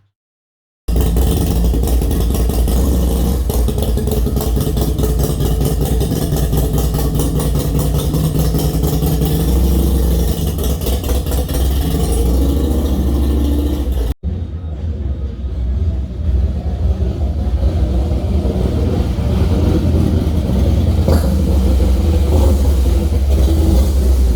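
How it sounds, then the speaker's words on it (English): A 2007 Harley-Davidson Heritage Softail Classic runs steadily and loudly with a deep, continuous engine rumble throughout, the tone shifting slightly partway through as the ride continues. "we will take the bike on a spin to test out the new brake"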